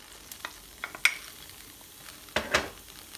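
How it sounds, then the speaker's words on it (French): Onions and garlic frying in hot olive oil, a soft low sizzle with a few separate clinks and two louder scraping bursts of a utensil in the pan, close and quiet, no voices. "Je prends une poêle, de l'huile d'olive, j'attends que ça chauffe et ensuite j'y ajoute mes oignons d'abord et l'ail"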